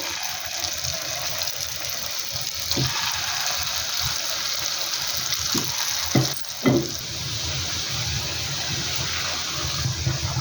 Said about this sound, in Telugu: ఇప్పుడు ఆయిల్ వేడైందండి, బోండా వేస్తున్నాను.